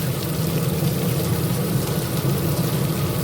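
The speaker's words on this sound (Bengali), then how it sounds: "কিন্তু যা বৃষ্টি হচ্ছে" Heavy morning rainfall pours down steadily in a dense, even roar, loud and unbroken throughout with no voices.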